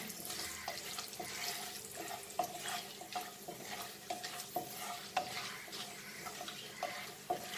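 Mutton rogan josh base frying in a pan, a steady bright sizzle with stirring scrapes and small clinks recurring about every half second, close and continuous with no talking.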